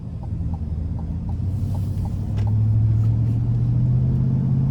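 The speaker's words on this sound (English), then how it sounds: "The exhaust sounds good, the engine sounds good. You just get a nice beefy, muscular sound as you're driving this thing down the road." A 2025 GMC Sierra 1500 Denali Ultimate's 6.2-litre V8 and exhaust in sport mode drone loudly from inside the cab, a deep steady rumble that swells and thickens as the truck builds speed, with no talk.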